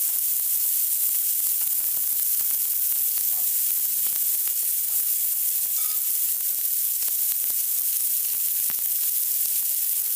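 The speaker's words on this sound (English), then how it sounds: "what I'm doing here is just giving them a nice sear, a nice charred flavour using the griddle pan" Kofta searing on a griddle pan, a steady close sizzle with faint crackles running evenly and continuously with no talking.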